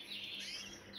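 Pigeon squabs being weaned chirp in a brief burst of high, thin, continuous peeping, close by and moderately loud.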